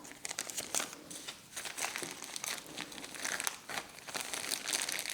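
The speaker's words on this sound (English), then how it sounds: "you would wrap it in a piece of film, like so, and then in a plastic bag." Plastic film and a plastic bag crinkle steadily as worked sugar paste is wrapped by hand, a close, continuous rustling and crumpling throughout.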